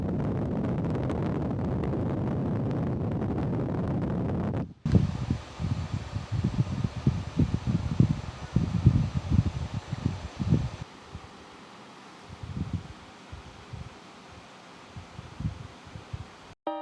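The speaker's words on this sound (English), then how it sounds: "placed a mic in the stream so that you can hopefully hear the blowing" After an opening stretch of broadband noise, a Dreo Cruiser Pro tower fan blows steady air past a close microphone in its stream, heard as a soft rushing hiss with buffeting low gusts that ease off toward the end.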